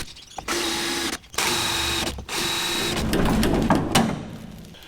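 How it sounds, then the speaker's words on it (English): A drill bores out spot welds on the steel tub braces of an FJ45 Landcruiser, a loud close whining grind in three long bursts separated by brief pauses, the last burst rougher and rattling as the bit breaks through. "drill out the spot welds on these braces so I can take these braces off"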